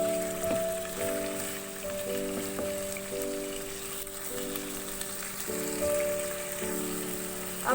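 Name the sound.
chicken frying in oil with garlic and ginger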